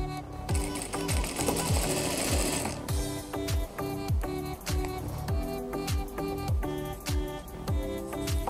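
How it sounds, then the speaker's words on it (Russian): A sewing machine stitches a seam along the wrong side of a child's dress fabric, its needle hammering in a fast, steady rhythm close up, running alone with no talk. "Теперь нам осталось проложить строчку по изнаночной стороне."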